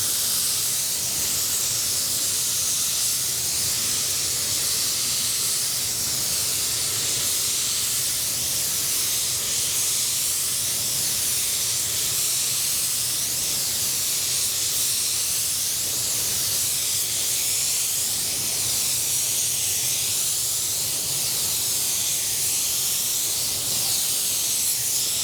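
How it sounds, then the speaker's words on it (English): Continuous loud hiss of a spray gun laying down white Spies Hecker base coat paint at 26 PSI with fan and trigger fully open, steady and unbroken for the whole span with no voices. "I shoot it the same way I shoot base, which is at 26 PSI, fan fully open, trigger fully open"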